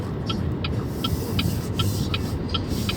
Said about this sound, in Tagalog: We are in this horrendous traffic.